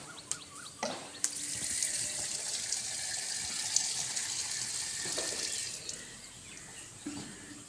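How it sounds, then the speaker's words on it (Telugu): Water sprays and splashes onto rooftop solar panels as they are washed, a faint, steady hiss with a few sharper knocks, heard from a little distance. "తడుపుతున్నాడండి నీళ్ళతో."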